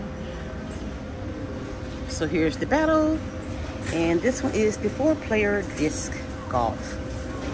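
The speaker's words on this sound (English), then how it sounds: "it's the air conditioner right above my head." An air conditioner runs right overhead in an ALDI store as a steady low hum and rush, while a person talks over it for most of the clip.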